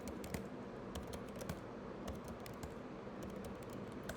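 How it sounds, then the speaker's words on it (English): Rapid, irregular keystrokes clatter on a computer keyboard, close and fairly quiet, with bursts of clicks and brief pauses over a low room hum. "what's happening to my typing?"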